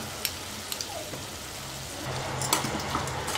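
Onion, capsicum, soy sauce, green chilli and tomato sauce sautéing in a pan for bread manchurian, with a steady soft sizzle, a few scattered clicks of stirring and a slight rise in crackle toward the end; no talking.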